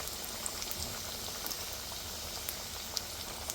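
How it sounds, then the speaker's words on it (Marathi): Poha and coriander kothimbir vadi shallow-fry in hot oil, giving a steady, dense crackle and bubbling hiss with a few sharper pops scattered through, heard close and alone. "छान अशा लालसर होईपर्यंत खरपूस आपल्याला त्या तळून घ्यायच्यात"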